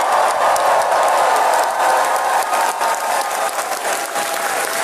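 A crowd at a Yang 2020 rally at GMU in Fairfax, Virginia, cheers and applauds loudly and continuously, a dense wash of clapping and shouting with no break.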